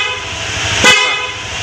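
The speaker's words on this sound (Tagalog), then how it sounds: "Stock horn." Stock horn on a Honda Click 125i scooter giving one short, loud honk over a low idling background.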